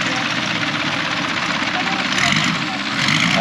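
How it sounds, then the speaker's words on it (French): Large inline six-cylinder engine idling nearby, a broad steady rumble with hissy noise on top, heard in Krabi, Thailand while people talk. "C'est un 6 cylindres en ligne."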